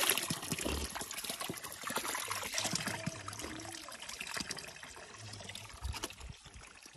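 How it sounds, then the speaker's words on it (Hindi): Drinkable spring water trickles and splashes steadily from a pipe fed from a mountain spring in a village in Swat, a soft continuous outdoor flow without talk. "ये पाइप लगा हुआ है ऊपर कहीं चश्मे से, तो ये पानी जो है ना पीने वाला होता है।"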